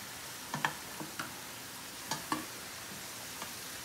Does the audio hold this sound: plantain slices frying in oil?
yes